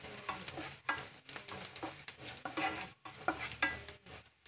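Onions and two crushed bay leaves fry in a pan for rajma curry, a quiet sizzle under repeated rhythmic stirring scrapes, close and fairly soft.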